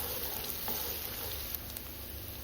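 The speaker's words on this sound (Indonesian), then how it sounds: "panaskan isi minyak, kemudian kita tumis bawang merah, bawang bombay hingga agak kemerahan" Shallots and onion sautéing in hot oil in a nonstick pan, an even, loud hiss of sizzling with a few faint pops, steady for the whole short stretch.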